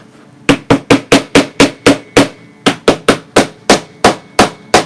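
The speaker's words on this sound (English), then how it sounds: "Another thing that's a good idea is to have a small hammer." A small hammer drives staples into a ruffled monster wreath, two quick runs of sharp, close, evenly spaced taps, about eight and then nine strikes with a short pause between, no talking.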